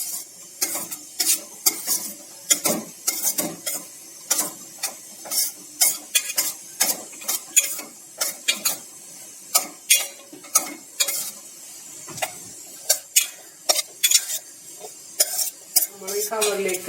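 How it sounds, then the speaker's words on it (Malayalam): Potato pieces are tossed with cornflour for potato chips, making close, rhythmic scraping and rustling strokes that repeat steadily, each a short burst with brief pauses between. "അപ്പൊ ഇനി നമുക്ക് കോൺഫ്ലോർ ഇളക്കി കൊടുക്കാം."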